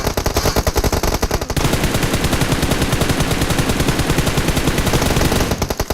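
Gunfire in the mobile game PUBG Mobile, loud and close, with a rapid automatic burst that fires in a continuous, even rhythm for about six seconds.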